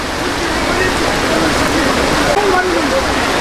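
Heavy rain pours steadily over a fish market, a loud, dense wash of falling water filling the whole stretch, with faint voices under it.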